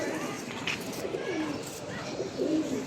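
A pair of Dudh Khaki Giribaz pigeons give low, rolling coos at close range, a few soft phrases rising over a quiet room hum.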